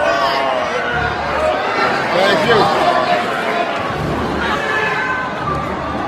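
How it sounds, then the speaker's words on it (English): A rowdy live audience fills the room with a continuous loud murmur of chatter and shouting, and one voice briefly speaks over the din. "This is a feisty crowd."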